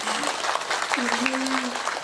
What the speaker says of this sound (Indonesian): tepuk tangan untuk para panitia sadaya